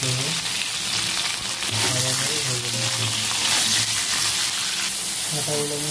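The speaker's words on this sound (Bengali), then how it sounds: "ডাঁটাগুলো আমি হালকা ভেজে দিচ্ছি" Drumstick stems frying lightly in a little oil in a wok, a continuous moderate sizzle with some stirring, under faint background voices.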